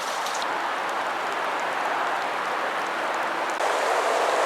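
Rain falling steadily beside canal locks during gate replacement works, a fine continuous hiss of drops on surfaces, even and moderately loud, growing slightly heavier near the end.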